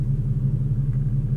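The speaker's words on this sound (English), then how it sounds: "I don't know if you guys can hear my car purring," Steady low idle of a 2015 Infiniti Q50 with a 3.7L engine and muffler delete, a deep rhythmic burble heard from inside the car, close and continuous with no talking.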